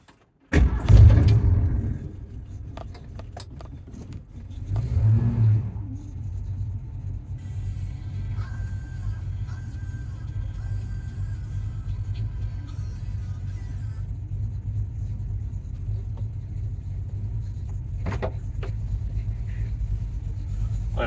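A Ford Mustang, back on the road after more than 40 years off it, cranks with a heavy thump and fires up, then settles into a loud, steady, low rumbling idle that carries on to the end, with a brief rev surge near the start.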